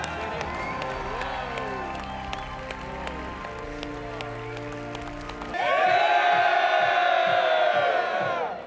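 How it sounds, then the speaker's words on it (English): Crowd noise erupts to cheer the winning team at the Microsoft Imagine Cup 2012 awards, first muffled under music and chatter, then a loud surge of cheering, whooping and applause in the final seconds. "Please, a big round of applause."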